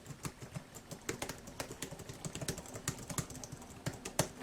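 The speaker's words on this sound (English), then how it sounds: "it's a very silent keyboard" Typing on a Lacolain wireless full-size keyboard with a number pad, a steady run of soft, muffled key clicks with occasional louder taps, close and quiet, with no talking.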